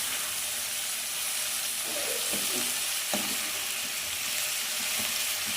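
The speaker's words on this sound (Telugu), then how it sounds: "చూడండి వేగుతుంది కదా" Brinjal and broad beans curry fries in a pan, giving a steady loud sizzle with occasional stirring scrapes and clinks, close up and continuous throughout, with no speech over it.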